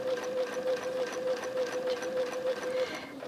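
A sewing machine stitching slowly along a quilt, giving a close, even whirring hum with a faint regular pulse that runs steadily and stops just before the end.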